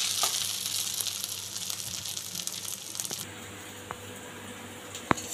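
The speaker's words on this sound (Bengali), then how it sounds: "তো একটু আমি এটা একটু চালটা একটু মশলার সঙ্গে কষিয়ে নিচ্ছি" Gobindobhog rice stirred and frying with spices in a pan gives a close, steady sizzle with soft squishing stir sounds, which thins to a quieter hiss midway, with a couple of sharp taps near the end.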